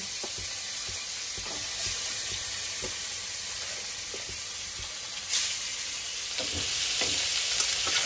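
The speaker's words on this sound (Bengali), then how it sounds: "মাছগুলো এক এক করে দিয়ে দেবো। এই মাছ খুব ফাটে।" Fish pieces spit and splutter in hot oil, a loud, continuous close-up sizzle broken by occasional sharper pops and crackles, with no voices over it.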